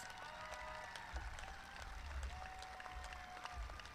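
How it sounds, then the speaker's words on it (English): Faint, distant applause from the audience at a 2021 high school graduation ceremony as honor society students stand, soft steady clapping with a sustained tone in the background. "definitely, round of applause"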